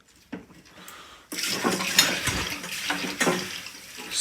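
Cold mains water rushes through a combi boiler's heating system during a flush, starting as a quiet trickle and surging into a loud, steady hiss and gush with clattering pipework and fittings.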